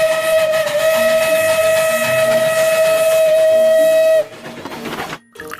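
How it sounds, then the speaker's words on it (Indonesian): A toy steam locomotive sounds a loud, steady whistle for about four seconds, then cuts off abruptly and leaves faint mechanical rattling and brief quiet. "Wow, yang ini lokomotif kereta api."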